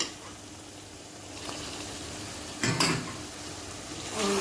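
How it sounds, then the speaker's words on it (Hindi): Tomatoes go into chicken karahi frying in a pan, giving a steady sizzle that swells briefly as they drop in and are stirred, with a light clatter of the utensil. "अब मैं इसमें शामिल करती हूँ टमाटर।"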